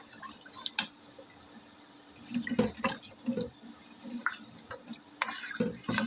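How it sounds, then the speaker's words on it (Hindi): Hot boiled water poured into a pot of beef paya gravy, with scattered drips and splashes and a few louder sloshing bursts at close range, no speech. "मैंने गर्म पानी बॉयल करके रखा हुआ है, ठंडा नहीं डालूँगी"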